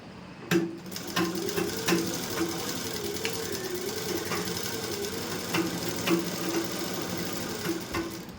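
A sewing machine stitches along a marked line on fabric, running in a steady close mechanical whir with a faint periodic tone and a few sharp clicks, with no voices.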